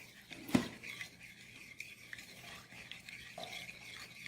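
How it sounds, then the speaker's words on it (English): A spoon stirs sugar into a bowl of water for Kenyan chapati dough, with a sharp clink near the start followed by faint scraping and stirring. "Mix that very well."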